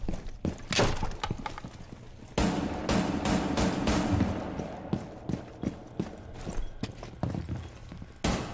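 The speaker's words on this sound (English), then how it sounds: "Horses." Horse hooves clip-clop in a video game as a run of sharp, uneven impacts, mixed with heavier bangs that resemble gunfire.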